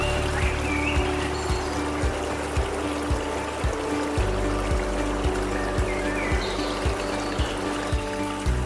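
Water trickles and gurgles steadily at the Pucuk Krung nature spot, a continuous close babble alongside a rhythmic low thumping pulse, with no voices.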